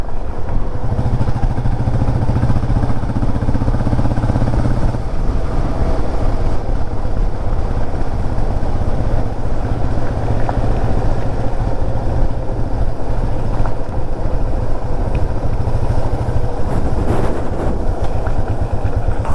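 A motorcycle rides along a forest road near Valparai, its engine a loud, steady, close drone that holds throughout without a break and with no voices.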